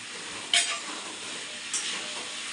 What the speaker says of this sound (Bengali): চলো এখন এই আলু ভাজাগুলো সব দিয়ে দিই।